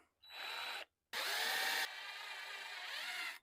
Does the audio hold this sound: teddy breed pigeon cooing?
no